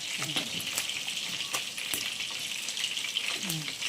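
Bitter gourd leaves and alugbati leaves sizzling and frying in a pan while being stirred, a steady crackling hiss with occasional scraping strokes of the spatula, close up.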